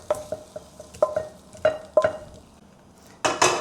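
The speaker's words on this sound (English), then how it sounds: "And then turn it over to sear the other side." Shrimp sear in a hot pan for a Chinese ginger garlic stir-fry, with repeated sharp clinks and scrapes of a utensil against the pan, followed by a louder burst of sizzling near the end.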